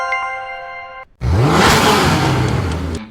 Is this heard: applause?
no